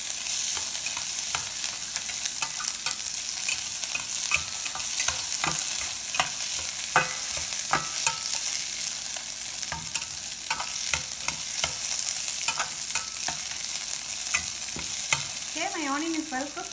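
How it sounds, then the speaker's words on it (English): Chopped onion sautéing in a pan for chickpea sundal, a steady close sizzle with frequent stirring scrapes and taps running continuously throughout. "I'm going to add my onion, and then I'm going to saute it for like 2-3 minutes"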